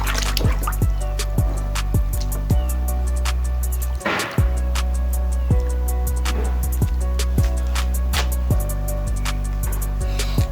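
Pieces dropped into water in an aquarium tank make a series of sharp splashes and drips, with one larger splash partway through, set over a steady low hum, close and fairly clear.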